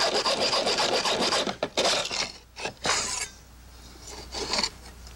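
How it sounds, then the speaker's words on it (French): Long hacksaw blade slipped under a roof slate rasps back and forth against a nail, a run of rapid rough strokes, then a few slower ones fading into quieter scraping. "on utilise tout simplement une longue lame de scie à fer avec une paire de pinces que l'on glisse en dessous de l'ardoise et on vient scier les clous"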